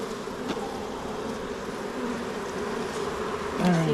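Honey bees buzz in a steady, dense hum during a beehive inspection for requeening, close and loud. The drone continues without a break and swells slightly near the end.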